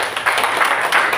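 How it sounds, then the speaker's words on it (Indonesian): A church congregation claps during a worship service, a dense, steady patter of many hands filling the room at close range, with no voices rising above it. "Mari kita tepuk tangan bagi Tuhan."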